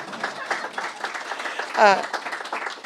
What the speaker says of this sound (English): somebody wanted to clap, and I think it's okay to clap.